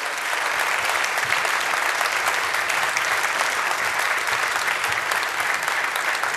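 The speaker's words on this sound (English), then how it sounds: "Yeah, you can applaud this crew," An event audience applauds the crew during closing remarks, sustained dense clapping from a large crowd throughout, loud and even with no talk over it.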